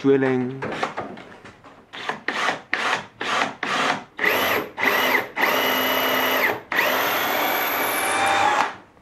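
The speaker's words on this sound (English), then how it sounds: "then tapping two holes. That an M6 bolt can be threaded through." Threads being tapped into holes in desk parts to take an M6 bolt, heard as a series of short whirring tool bursts in a regular rhythm, with a longer steady run near the end after brief talk at the start.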